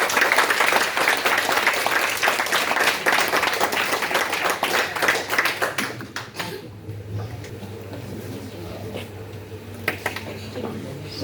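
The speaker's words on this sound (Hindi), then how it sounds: "तो एक बार तालियों से स्वागत कीजिए हमारे तीनों जजेस का।" Audience applause welcoming three judges at a bhajan singing competition, dense clapping that thins out midway to scattered claps over a low hum, with faint crowd noise.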